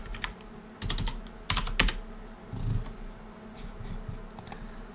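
Fingers type on a computer keyboard in short bursts of clicky keystrokes, a few clustered taps separated by pauses, close and fairly clear over a low hum.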